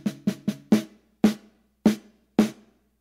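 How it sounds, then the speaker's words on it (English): Close drum strokes played alone: a quick cluster of four hits forms a five-stroke roll, then three more evenly spaced, ringing strokes fade into silence. "you do a 5-stroke roll, a triplet, and a quarter note"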